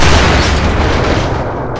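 A loud, booming explosion as an object is blown up in Half-Life: Entropy Zero, a dense blast roar filling the short clip and fading slightly toward the end.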